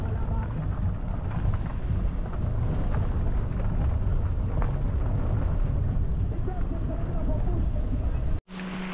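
Steady rain pours down outdoors in Mabaruma, a dense, continuous hiss with no break until a sudden cut near the end.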